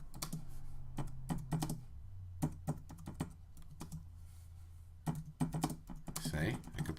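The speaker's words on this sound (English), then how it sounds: "So now I can type in" Computer keyboard typing into a text box on a slide: irregular bursts of close, light key clicks with short pauses, and a quiet voice speaking now and then.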